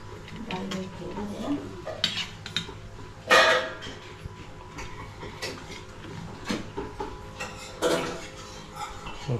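Plates and serving tongs clink and clatter while a home meal of vada, rice, dal and salad is served, scattered sharp metallic and ceramic knocks over a low background hum, with people talking.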